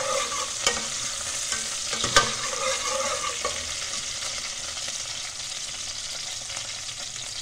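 Garlic fries in a pan for a tindy dish, with a steady hiss of sizzling oil and a few scraping clicks of stirring, close and fairly quiet with no voices.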